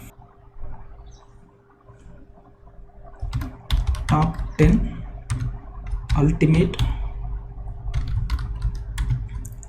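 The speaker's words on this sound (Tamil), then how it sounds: "ஸோ இந்த ப்ராம்ப்ட்டை வந்து நான் டிஃபால்ட்டாக ஒரு ப்ராம்ப்ட் டைப் பண்ணிக்கிறேன்" Keys clatter on a computer keyboard as a prompt is typed into an AI text-to-diagram tool, with quick bursts of clicking alongside someone speaking.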